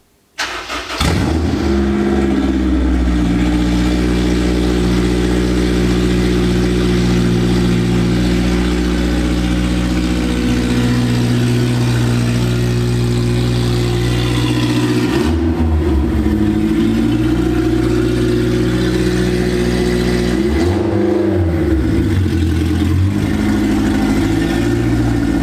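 A Honda S2000 engine cranks and catches, then settles into a loud, close idle. The engine is blipped into a couple of sharp revs partway through and again near the end before dropping back to idle.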